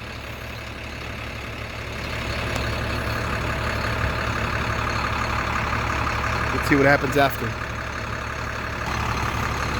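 An International 4300 truck with a DT466 diesel engine idles steadily at close range, a low continuous rumble, with a brief burst of air near the end and someone speaking over it.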